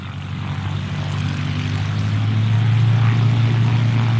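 Propeller engine of a WWI aircraft launching, a loud steady droning hum that swells slightly as it builds power, close by and alone without talk.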